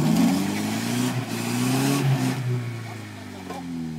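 An Opel Frontera engine revving hard while driving off-road through mud, with a strained mid-pitched drone that rises and dips unevenly. Voices talk over it.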